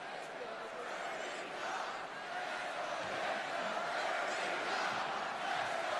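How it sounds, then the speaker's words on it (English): A vocal wrestling arena crowd roars steadily throughout, a dense, sustained wash of cheering and shouting with no clear breaks. "Very vocal crowd all night long."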